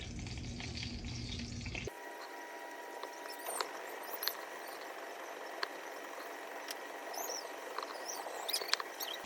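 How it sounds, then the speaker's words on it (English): Floured lamb patties fry in hot oil with a steady, close sizzle and crackle and occasional sharp pops, with no talking. "And then into our hot oil."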